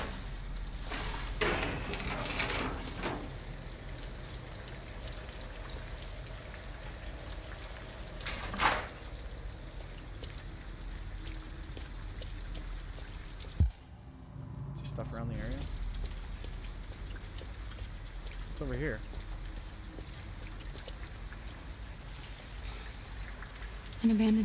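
Rain falling in the video game Detroit: Become Human: a steady, close hiss of drops on surfaces throughout, broken by a few sharp knocks and thuds.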